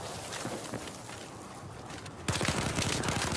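Gunfire and grenade blasts in an Xbox One shooter video game during a 5v5 Domination match: a scattered burst of pops, then a sudden loud stretch of rapid cracking shots and explosions, with no voices.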